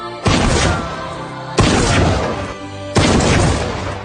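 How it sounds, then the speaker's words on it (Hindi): Three loud, evenly spaced booming shots from a hunting rifle, each a sharp crack with a long decaying tail, sounding in sequence with no talk over them. "लगातार कई गोलियां चलने के साथ"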